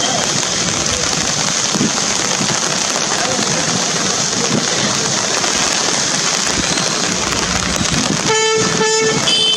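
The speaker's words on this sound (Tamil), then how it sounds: "காற்றுடன் கூடிய மிதமான மழை பெய்தது" Moderate rain with wind falls over the Kodaikanal hills as a steady, dense outdoor hiss throughout, with a few short car horn toots near the end.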